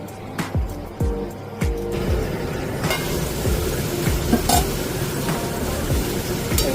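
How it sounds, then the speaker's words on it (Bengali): Potatoes frying in a pan give a dense, continuous sizzling hiss with a few knocks and scrapes of stirring early on, loud and close throughout. "দেখো আলুগুলো ভাজা ভাজা হয়ে গেছে এবং নরমও হয়ে গেছে"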